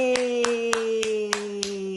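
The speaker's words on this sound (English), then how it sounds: "Clap the baby, clap the baby." Slow, even hand claps beside a baby, six crisp single claps spaced about every third of a second over a sustained electronic tone, with no voices.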